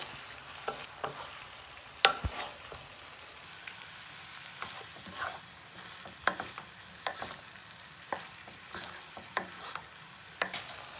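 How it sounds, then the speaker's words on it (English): Pasta being stirred through a green sauce in a pan for a healthy low-calorie dish, with soft scraping and mixing knocks repeating every second or so over a faint background hiss, close and fairly quiet, no talking. "Then I'm going to add the pasta. Then mix it up all together."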